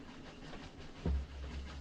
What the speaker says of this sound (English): Over the sound of the train